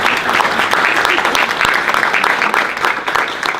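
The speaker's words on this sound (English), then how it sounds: "Can we give all the panelists and us a round of applause?" Audience at a student education panel gives the panelists a round of applause, steady dense clapping at close range that holds throughout, with some voices mixed in.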